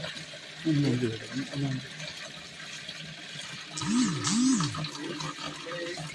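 Water splashes and trickles steadily in the background while people talk over it.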